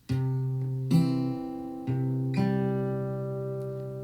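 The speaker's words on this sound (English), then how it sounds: "a finger on the open third string" Plucked guitar strings ring out, including a finger on the open third string, several notes struck one after another, each sustaining and slowly fading, close and clear with no voices.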